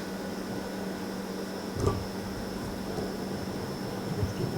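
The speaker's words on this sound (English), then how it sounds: "Pop them into a microwave." A microwave oven runs with a steady, low mechanical hum and a faint whirring noise throughout, with no talking.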